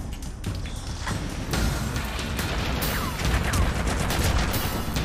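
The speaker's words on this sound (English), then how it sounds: "Okay, pretty heavy fire" Heavy, sustained gunfire in the PS3 shooter Haze, a dense, loud wall of overlapping automatic bursts and impacts with occasional crashes and whizzing rounds, continuous and without pause.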